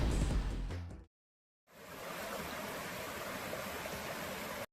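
Water flowing in a stream in Switzer canyon in the San Gabriel mountains, a steady close rushing wash that stops briefly partway through, then resumes and continues evenly.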